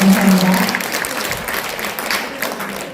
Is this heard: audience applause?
yes